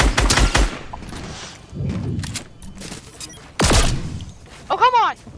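Pistol gunfire in Fortnite: a quick cluster of sharp shots at the start, then one loud, heavy shot later on, close and punchy, with voices talking in between.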